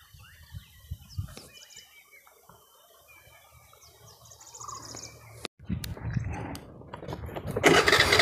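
Chickens and sparrows in a quiet rural village, heard as scattered faint chirps and clucks over near-silence, followed by louder rustling and nearby noise toward the end.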